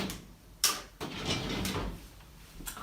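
A drawer in a home office slides and knocks shut, with a sharp bump, a second thud and rustling movement nearby, then a faint later click.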